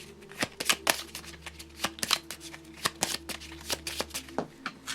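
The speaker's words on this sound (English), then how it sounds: "We need to draw 2 more cards after I finish shuffling these though." Playing cards being shuffled for a Marvel Champions tabletop card game, a quick run of crisp riffling bursts repeating steadily with brief pauses between them, close and fairly quiet against a faint steady hum.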